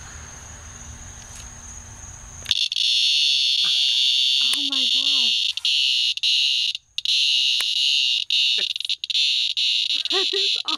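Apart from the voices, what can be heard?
cicada buzzing loudly while held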